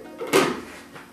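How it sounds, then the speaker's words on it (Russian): A single short clunk of a plastic lid being set down on a blender bowl, close and brief, with a faint softer knock just after. "Накрываем чашу блендера"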